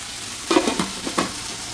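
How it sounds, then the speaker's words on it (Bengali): Malabar spinach being fried plain in a pan, with a steady sizzle broken by several distinct stirring scrapes near the middle, close and moderately loud with no talking. "এই যে দেখুন পুঁই শাক ভাজি করছি সাদা ভাজি"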